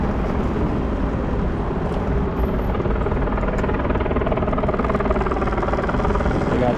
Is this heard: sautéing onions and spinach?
no